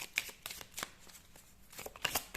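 Tarot cards are shuffled and drawn by hand, with soft, quick papery riffles and taps that come in short bursts, faint and close with no talking.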